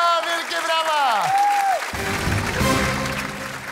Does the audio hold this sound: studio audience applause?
yes